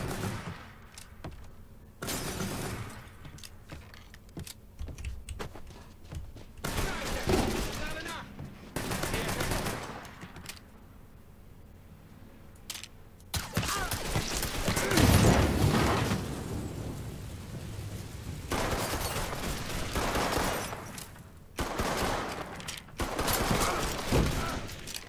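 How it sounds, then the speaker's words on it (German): Gunfire aimed at the players in the video game Mafia 3, scattered shots and rattling bursts that swell and fade, some passages loud and dense, with a voice talking intermittently underneath. "Nur, dass auf uns geschossen wird,"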